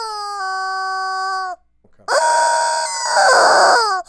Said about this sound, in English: This is Glenn Cowbell, the Rhinestone Rooster. And whenever one sells here at the shop, this is what happens.